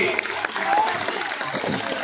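Villagers applaud at a village wrestling bout in Dhokbabhulgaon, with scattered claps rising under a voice over a loudspeaker that carries on throughout.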